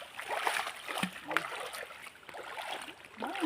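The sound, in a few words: waterfall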